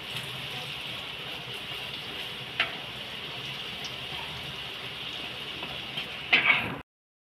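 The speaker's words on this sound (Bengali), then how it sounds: "সব বড়া ভাজা হয়ে গেছে, এরকম সুন্দর লাল মচমচে করে বড়াটা ভেজে তুলেছি।" Banana flower fritters frying in oil over a medium gas flame, a continuous close hiss and crackle with a few small clinks, swelling briefly near the end before cutting off, no voices.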